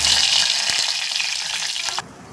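Whole spices such as cinnamon, clove and a bay leaf frying in hot oil in a pan, giving a loud, steady close-up sizzle that cuts off abruptly near the end, with no talking.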